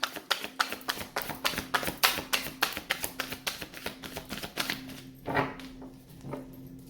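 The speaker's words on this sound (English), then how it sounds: "another shuffle for the Twin Flames, Divine Masculine, Divine Feminine" Tarot cards being shuffled by hand in a reading, a quiet, regular run of soft slapping taps that slows and thins toward the end.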